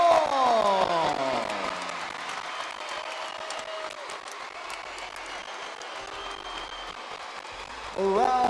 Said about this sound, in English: Good to see the crowd clapping their hands for the boys.